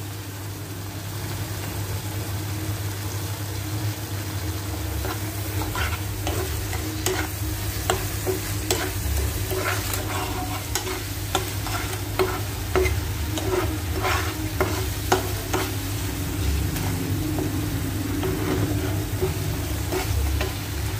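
Egg curry masala sizzles steadily in a pan while being stirred and fried with salt, giving a continuous frying hiss with scattered scraping clicks from the spatula and a low background hum.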